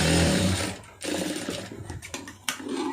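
A sewing machine stitching a blouse, running in a fast, close, steady whir that briefly stops and then restarts in uneven bursts.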